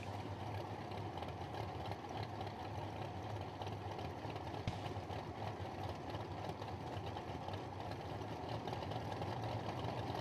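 A motorcycle engine idles at a bracket racing event, a faint, steady, even chugging drone that holds without revving throughout.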